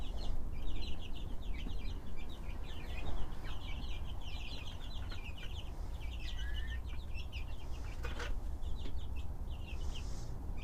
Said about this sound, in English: now I'm back into the stable to spend a little bit of time with the baby chicks, but also with the new hens